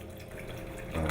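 Organic rice milk poured into a blender for a smoothie, a short, steady liquid splash that grows a little louder toward the end, with no talking.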